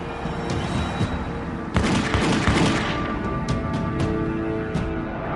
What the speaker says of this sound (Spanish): es asesinado a balazos en el Casino Nugget de John Ascuaga